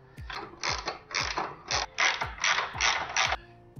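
A ratchet clicks in short bursts, about seven rapid strokes, while tightening the axle mounting bolts on a motor cage, close and fairly loud with brief pauses between strokes and no talking.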